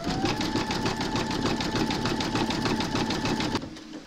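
An embroidery machine satin stitching an appliqué of Mrs Claus runs at a steady fast mechanical rattle with a constant whining hum, close and even, before stopping abruptly near the end.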